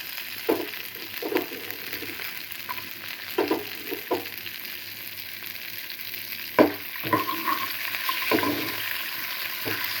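Garlic sizzling and frying in a hot pan for a murungai keerai dish, a steady crackling hiss broken by several sharper bursts and stirring clatters, with no voices.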